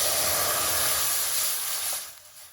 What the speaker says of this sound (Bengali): এবারে কড়াইয়ে নিয়ে নেব হাফ লিটার দুধ।